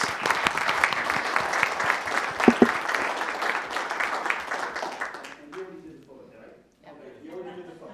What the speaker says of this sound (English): Let's give him a round of applause, if we could, please.